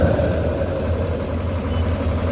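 Engine of a pitch tanker truck running steadily after being fired up, a continuous loud rumbling drone with a roaring burner-like hiss, close and alone without speech.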